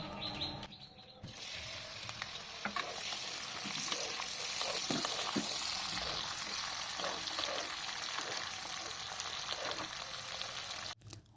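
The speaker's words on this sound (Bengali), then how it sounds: "এবার গরম তেলের ভেতরে চিংড়ি মাছটা আমি ভেজে নেব" Prawns sizzle and spit steadily in hot oil, a continuous close frying crackle with faint occasional bird chirps in the background and no talking.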